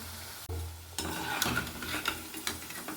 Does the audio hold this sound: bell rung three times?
no